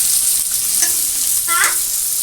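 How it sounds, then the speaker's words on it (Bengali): Chopped onion and green chilli fry lightly in a pan for egg chilli, giving a steady close hiss and sizzle with a couple of brief stirring scrapes and no talk. "পেঁয়াজ কাঁচা লঙ্কাটা আমি মোটামুটি হালকা করে একটু যে হালকা হালকা ভাজা হচ্ছে"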